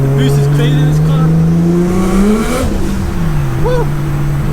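A 700bhp Nissan Skyline R33 pulls hard under turbo boost, its engine note rising steadily as it accelerates, loud and close from inside the cabin with a voice talking over it.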